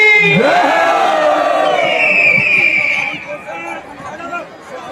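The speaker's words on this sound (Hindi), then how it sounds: "चलिए एक बार दोनों हाथ उठा करके जोरदार जयकारा लगाएंगे।" A large crowd roars a loud devotional jaikara to Baba Bholenath at a street jhanki procession, one surging shout with hands raised, then fading into chatter.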